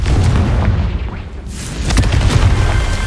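Confringo blasting spell explosions in the video game Hogwarts Legacy: loud, deep booming blasts that roll into one another with rumbling, crackling debris, close and powerful, with no speech.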